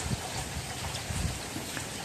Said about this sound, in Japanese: ご覧の通り雨が降ってますけど